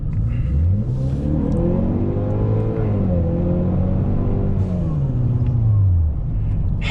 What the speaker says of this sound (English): It has such a good noise to it.